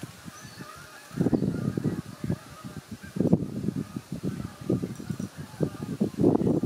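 Outdoor duck calls near water while fishing for catfish and sturgeon in New York, repeated honking bursts in irregular clusters, moderately close over quiet ambient background.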